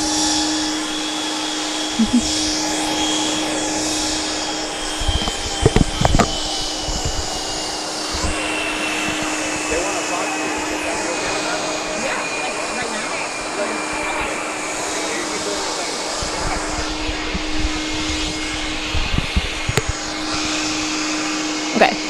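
A JetBlue airliner at JFK airport gives off a loud, steady jet-engine roar that fills the whole stretch with broadband rushing noise and a sustained whine, with a few brief knocks and thumps on top.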